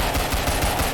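A small-caliber semi-automatic pistol fires in the video game Ragdoll Universe, sounding as a quick run of about five punchy shots in close succession, loud and up front with no voices.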